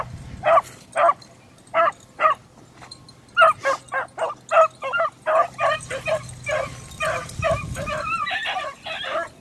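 Hunting dogs bay while chasing rabbits through cover, giving a series of sharp yelps and barks at a moderate distance. The calls start spaced apart, then come faster and overlap as the chase heats up.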